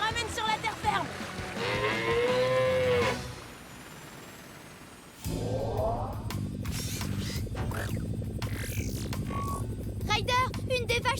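A cartoon cow moos in a PAW Patrol farm scene, a drawn-out bellowing call near the start, followed by a busy mix of other sounds and character voices.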